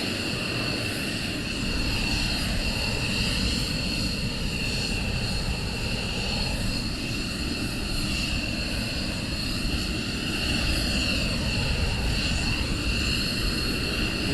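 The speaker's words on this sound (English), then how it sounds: "The Osprey is still doing some circuit work over at Mildenhall at the moment." A V-22 Osprey tiltrotor flies circuits over Mildenhall, a steady, far-off drone of engine and rotor noise that holds for the whole stretch with no break and no talk over it.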